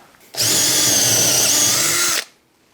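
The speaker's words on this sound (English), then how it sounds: "Go ahead and drill a hole through this" A power drill bores a hole through a part on a W210 E55 manual swap, a single loud steady whine that starts abruptly and stops after about two seconds.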